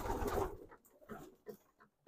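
Racing pigeons in a loft give a few soft, low cooing calls in short bursts, quiet and fairly close, with brief pauses between them.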